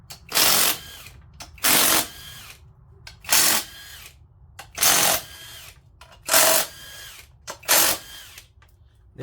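A cheap power tool gun works on the engine of a 2005 Honda Pilot during a head gasket job, firing in six loud, evenly spaced bursts of about half a second each, with quiet gaps between them.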